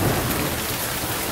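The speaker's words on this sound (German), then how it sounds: "Auch bei Sam auf Coconut Island tobte der Sturm in der vergangenen Nacht." Heavy rain pours down in a dense, continuous roar with deep rumbling thunder underneath, a stormy sound effect for a Playmobil pirate toy scene.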